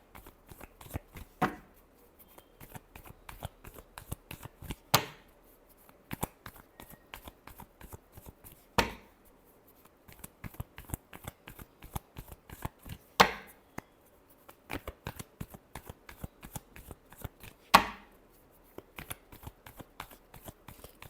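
Tarot cards are shuffled by hand in a quiet room. The shuffle sounds as a rapid riffle of crisp card flicks, and a sharper slap or bridge lands every few seconds. No voice is heard.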